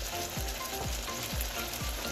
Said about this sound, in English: Check on this bacon.